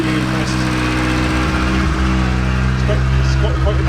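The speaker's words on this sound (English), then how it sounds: "It's got quite a nice exhaust note." A Rover car with a blown, nearly absent exhaust runs nearby, giving a steady, throaty low drone that holds without revving.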